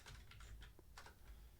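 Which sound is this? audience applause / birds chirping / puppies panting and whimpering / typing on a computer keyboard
typing on a computer keyboard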